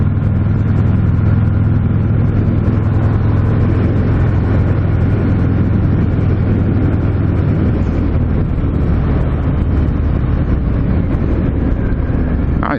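A 2019 Harley-Davidson FXDR 114 motorcycle engine while riding, a loud, continuous low rumble with wind rush that holds steady, no voices over it.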